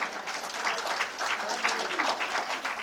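Audience applause at a Hindi poetry recital (kavi sammelan), a dense, steady crowd clapping that stays fairly even and close for the whole stretch.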